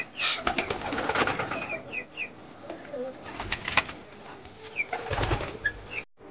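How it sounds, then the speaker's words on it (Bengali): Pigeons and their squabs feed together in a backyard loft, with repeated soft cooing and scattered pecking, wing flutters and faint chirps close by. "তো দেখো এখানে সব কবুতর বাচ্চা সবই খাচ্ছে।"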